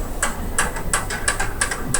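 Hammer blows shaping the folded edge of sheet metal in an art metalwork workshop, a series of sharp metallic taps at an irregular rhythm, close and clear over a low background rumble.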